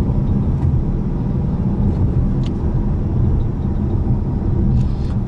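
Engine of a 2019 Ford Mustang GT Premium in sport mode, pulling hard from a downshift to second gear: a loud, steady low rumble that holds through the whole stretch with faint road noise above it and no talking.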